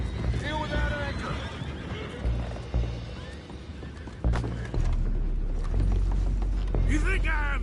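Horses neighing and whinnying in Red Dead Redemption 2, with hooves clopping, creaking wood and a few heavy knocks, loud and close amid general commotion.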